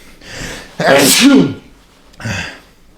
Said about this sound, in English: I feel a sneeze coming.